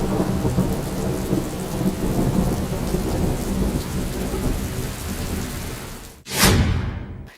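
Steady heavy rain pours down in a Gulf desert storm, a dense, continuous hiss close by, then a sharp crack of thunder bursts loudly near the end and rumbles away.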